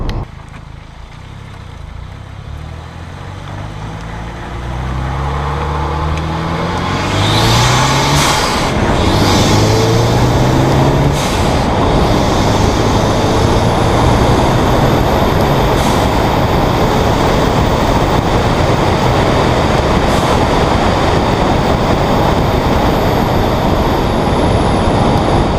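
A car engine breathing through a cone filter intake with the airbox removed, first a low idle then revving up into a loud, steady drone with rising harmonics, as heard from inside and outside the car.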